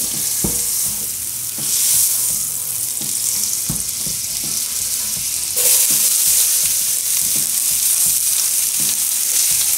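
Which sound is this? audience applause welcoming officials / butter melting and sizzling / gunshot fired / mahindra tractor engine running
butter melting and sizzling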